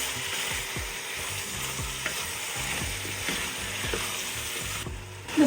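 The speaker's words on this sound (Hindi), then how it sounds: "अदरक लहसुन के साथ गोश्त को भून लें ताकि अदरक लहसुन का कच्चापन खत्म हो जाए" Mutton sizzles in a pan with crushed ginger and garlic paste, a dense steady frying hiss punctuated by repeated scraping stirs of a spoon, close and moderately loud with no voices.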